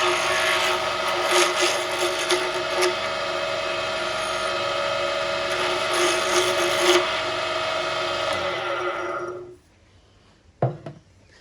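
An acrylic pen blank is roughed down on a lathe, a steady close scraping of the cutting tool over the spinning motor hum for about nine seconds before it stops, followed by a faint knock.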